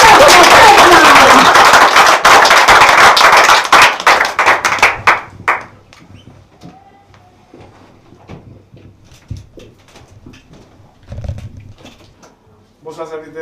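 A church congregation bursts into loud, dense applause that fades out after about five seconds, giving way to quiet room noise, scattered movement and a few voices.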